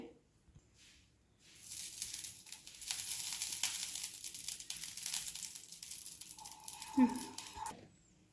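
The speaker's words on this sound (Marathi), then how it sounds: "गॅसची आच मंद ठेवून त्याच्यावर आता आपण तूप घालूया." Ghee in a hot pan on a low gas flame gives off a soft, steady sizzle that builds after a quiet start and holds for several seconds, with a brief clink near the end.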